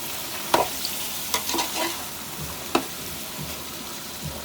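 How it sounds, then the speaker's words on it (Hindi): Onion and spices fry in a pan for kaleji masala, a close steady sizzle broken by a few sharp spoon scrapes and knocks as the masala is stirred. "तो 5 से 10 मिनट तक अच्छी तरह भून लेती हूँ तमाम मसालों को।"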